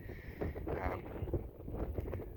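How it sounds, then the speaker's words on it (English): Breezy outdoor wind on a warm day while hiking uphill during a mule deer hunt, buffeting the microphone in uneven low rumbling gusts that rise and fall throughout. "It's getting a little warm, but it's very breezy, so it's still staying cool."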